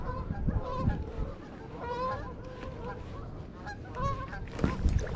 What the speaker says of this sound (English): There's geese flying right towards us.